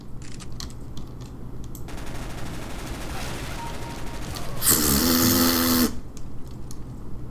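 Gunfire in the video game CS:GO, a bright burst of rapid automatic shots around the middle, preceded by scattered clicks and game noise, with faint talk in the background.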